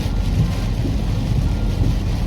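Heavy rain roars steadily during a storm at a new home under construction, with low rumbling that suggests distant thunder and gusty wind buffeting the microphone, and no talk.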